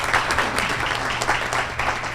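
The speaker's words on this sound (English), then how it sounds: "Give her a round of applause." Audience applause at a community luncheon panel on immigration, a dense, steady wash of many hands clapping at moderate volume, sustained throughout without speech over it.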